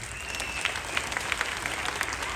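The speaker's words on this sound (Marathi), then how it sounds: "हात वरती करून सगळ्यांनी जोरात टाळ्या वाजवा" A crowd at an outdoor dance show for the Hamalnagar Mitra Mandal breaks into applause, a brief burst of many hands clapping at once, dense and steady from a moderate distance.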